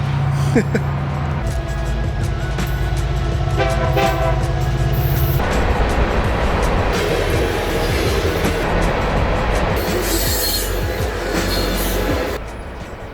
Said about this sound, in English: Now there's a train coming